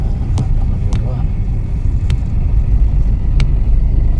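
A car driving along a road on the way to Manimuthar waterfalls and dam, its steady low engine and road rumble continuous and fairly loud throughout, with a few faint clicks.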